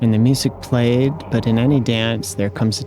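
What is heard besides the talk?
None of the usual background noises is heard.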